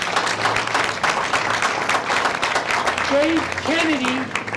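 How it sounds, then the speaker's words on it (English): An audience at a grant announcement event applauds steadily, with a couple of brief voices rising over the clapping near the end. "I'd like for us to all give him a round of applause for his help in this."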